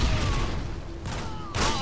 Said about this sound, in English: I'll just shoot over there randomly.